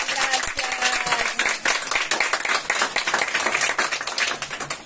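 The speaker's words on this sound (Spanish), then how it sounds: "Así es que un aplauso." Dense, steady applause from an audience at a community event fills the whole stretch, loud and continuous with overlapping claps throughout.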